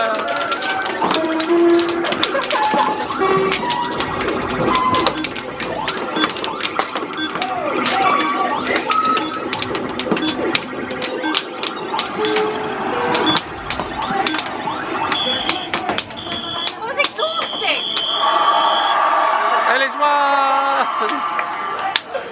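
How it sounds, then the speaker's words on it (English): Busy amusement arcade with 2p coin pusher machines, clinking coins and electronic jingles under a dense wash of crowd noise and nearby talking. "In one of the arcades playing with the 2p machines."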